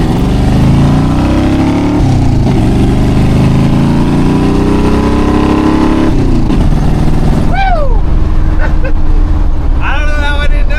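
A Jeep CJ-7 engine revs hard at full throttle after a clutch adjustment, a loud, sustained roar that climbs and holds close up, with a few short squeaks near the end.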